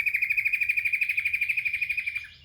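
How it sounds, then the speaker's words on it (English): A bird outdoors near a shipping container after heavy rain calls loudly and close in a fast, steady series of about twenty shrill repeated chirps that trail off at the end. "That's a noisy bird."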